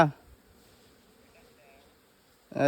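Honey bees hum faintly and steadily during a wild honey hunt, a thin, soft buzz between brief bursts of a person talking at the start and end.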